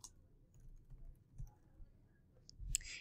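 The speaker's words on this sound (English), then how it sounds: "I'm going to start typing in hurricanes," Faint computer keyboard typing, a few soft, sparse key clicks against a quiet background with a slightly louder cluster of taps at the end.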